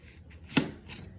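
A knife cuts through a watermelon in one crisp, close chop, with a soft crunch and a brief juicy split in a quiet room.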